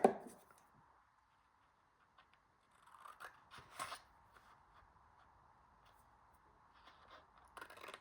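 Scissors cut a paper piece for a tuck pocket in a handmade Christmas tag flip folder, giving a few quiet snipping and rustling bursts near the start, middle and end, with no talking.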